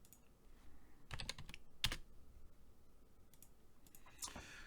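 Keys pressed on a Commodore PET keyboard, a few scattered clacks and short clusters of strokes, close but fairly quiet, with no talking over them.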